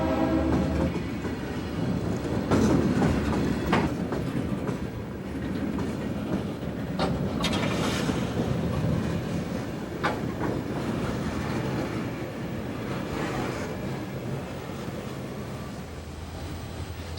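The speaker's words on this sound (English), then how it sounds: "Chicago and Northwestern number 6810 heads a southbound at Waynesburg" Chicago and Northwestern locomotive 6810 leads a southbound freight at Waynesburg on the Monongahela Railway in 1990, a loud, steady rumble of rolling cars with rhythmic wheel clatter and brief horn-like accents, no voices.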